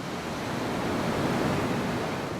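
Ocean surf pounds the rocky coast at the Mughsail blowholes in Oman, a dense continuous roar of breaking waves and rushing water with no clear gaps.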